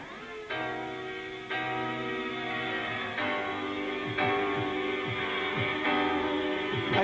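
Jungle track sampling a soul singer, taken from a 1994 broadcast. Steady sustained tones and a sung melody play alone at moderate level, with section changes marked by step jumps in loudness roughly every one to two seconds.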